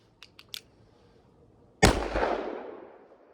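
A .357 Magnum revolver with a plow handle grip fires a single loud, sharp shot that rings out and decays over about a second, preceded by a few faint clicks.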